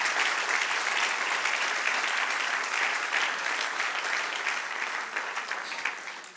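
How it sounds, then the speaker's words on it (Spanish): Church congregation applauds during a sermon, steady dense clapping from a large group throughout, easing slightly at the end. "Dale un aplauso al que reina."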